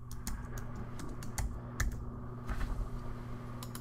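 Login details being typed on a computer keyboard: scattered, light key taps at an uneven pace over a steady low electrical hum, quiet and close, with no one speaking.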